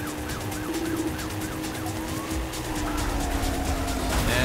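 A police siren in the video game Midnight Club: Street Racing wails in repeated rising and falling sweeps over steady engine rumble and game background noise, continuous and fairly loud throughout.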